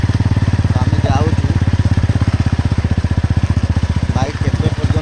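A motorcycle's engine chugs in close, rapid, even pulses while riding a rough village road through forest, loud and steady, with a voice talking over it.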